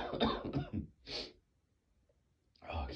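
A person with a cold, congested and sneezy with a sore throat, gives a single short cough between stretches of their own nearby talking.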